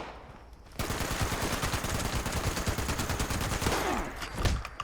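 Gunfire in Fallout 76: a loud, sustained stream of rapid automatic shots lasting several seconds, dense and continuous before trailing off.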